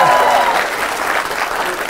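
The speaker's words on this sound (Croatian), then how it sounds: "sad aplauz" An audience claps and cheers in a burst of applause at a live stand-up comedy show in Zagreb, dense and loud from the start and holding steady across the short stretch.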